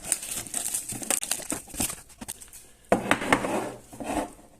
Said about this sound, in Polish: folia zeszła o tutaj